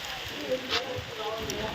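Rain patters in a steady hiss over a short stretch in a village, with a faint voice murmuring in the background.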